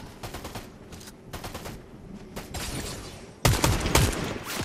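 Video game gunfire in Fortnite, with rapid volleys of shots in dense bursts that grow louder and heavier toward the end, with no talk over them.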